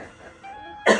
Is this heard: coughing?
yes